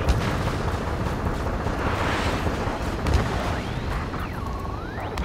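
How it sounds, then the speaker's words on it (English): Gunfire and jet roar in a city under martial law in the video game Ace Combat 7: Skies Unknown, heard as a dense, continuous rumble of blasts with sweeping jet whines near the end. "Gunfire and a roar of jets echoing through the streets."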